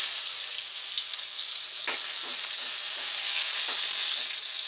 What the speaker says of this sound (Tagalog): sa puntong ito, maggisa na tayo ng sibuyas at bawang.